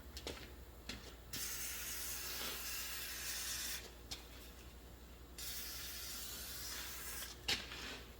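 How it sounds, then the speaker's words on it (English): Penetrating fluid sprays onto the seized wheel hub bolts of a 2016 Dodge Grand Caravan in two long, steady hissing bursts, each with a few short spurts nearby, all set against a low background hum. "Put some penetrating fluid on this."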